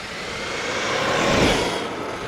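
An Arrma Kraton 8S RC car on an M2C chassis with a Hobbywing system races past at speed. Its high-pitched motor whine and tire roar swell loudly as it nears, then ease off, with no talking.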